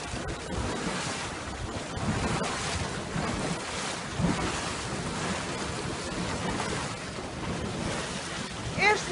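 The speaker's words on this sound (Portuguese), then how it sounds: "Temos aqui uma fumarola impressionante, com lamas que borbulham com grande intensidade." A fumarole in Furnas in the Azores churns intensely bubbling mud, making a continuous, roaring rumble with gurgling surges. The sound is heard outdoors in fairly loud wind.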